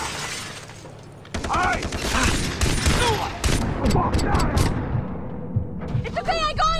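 Rapid bursts of gunfire in the video game Far Cry 3, loud sharp cracks clustered in a dense volley after a quiet opening, with voices talking over the shooting.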